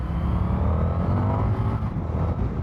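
Indian FTR 1200 S V-twin motorcycle engine running at high revs, heard as a steady, loud, low throaty drone with slight rises and falls and no speech.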